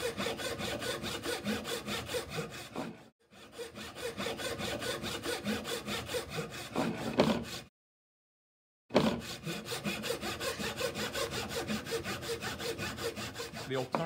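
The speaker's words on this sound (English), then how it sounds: "I'm gonna cut again across" A hand saw cuts wood for a half lap joint, rapid rhythmic rasping strokes close up, pausing briefly near the start and again for about a second before sawing resumes.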